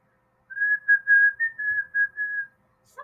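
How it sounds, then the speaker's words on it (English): A person whistles a short run of clear, close tones in a simple melody, alone in quiet surroundings. "the zookeeper was whistling. Can you whistle?"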